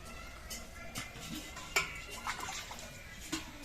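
Pieces of taro clatter into a cooking pot with water poured in, a few sharp knocks and scrapes of metal standing out over a soft, close-up kitchen background.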